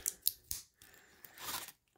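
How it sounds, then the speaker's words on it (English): Scissors with dull tips snipping through paper or card, a few sharp, quiet clicks followed by a short rasping cut, close and soft. "These scissors are kind of dull on the end."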